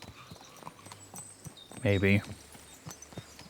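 Horse hooves clip-clop in a steady walking rhythm on the ground in Kingdom Come: Deliverance 2, close and clear, with someone briefly speaking over them.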